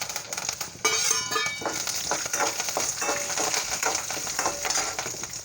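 Green chillies, dal and curry leaves fry in a hot pan for a home-style Marathi recipe, giving a steady crackling sizzle with a sharper burst near the start and light stirring scrapes throughout, close and alone.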